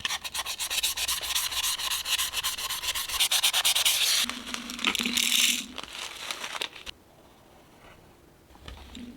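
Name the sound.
sanding the top of a tumbler with a sanding block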